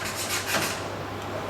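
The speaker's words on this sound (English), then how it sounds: "we cut the 2 end pieces first using a serrated edge knife" A serrated knife saws through rolled Chelsea bun dough with a soft, steady rasping scrape, close and quiet, with no talk.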